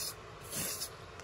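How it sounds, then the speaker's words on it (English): Aerosol spray paint can hissing out in uneven bursts rather than a fine mist, a steady close hiss that swells and sputters over a second. "Watch the spray. You see how it comes out very uneven?"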